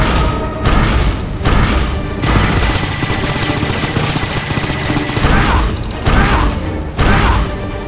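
Rapid-fire weapon shots from the video game Painkiller, a dense continuous barrage of loud, close blasts with a few brief gaps and heavy low thumps throughout.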